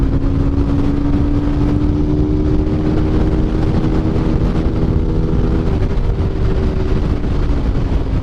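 An SBM250s motorcycle engine accelerates and holds a loud, steady drone, its pitch rising gently and then dipping, with heavy wind rumble on the microphone throughout.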